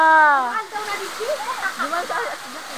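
Steady rushing water from Busay Falls in Pagatpatan, Camarines Sur, fills the background while a person talks over it, starting with a drawn-out vocal sound.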